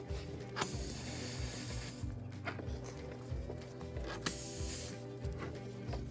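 A tire plug rasp tool reams a puncture in a car tire, giving repeated harsh scraping strokes with sharp hissy bursts, close and fairly loud.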